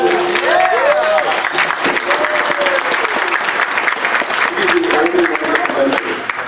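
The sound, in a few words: audience applause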